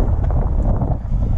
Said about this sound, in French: Et on va se mettre à l'abri du vent.